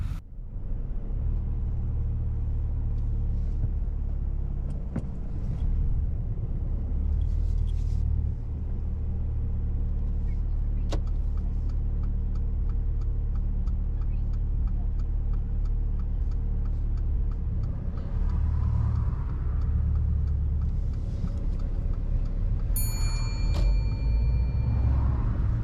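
Steady road traffic rumble as vehicles pass on the left to get into a straight lane, a continuous low engine drone with occasional brighter ticks and swells of passing cars, fairly loud and close, no talk.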